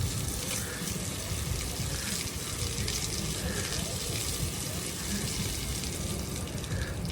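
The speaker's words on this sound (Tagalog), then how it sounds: "Tumutulo. Sayang yung tubig." Water running from a tap in a continuous, steady gush, loud and close throughout with no talk.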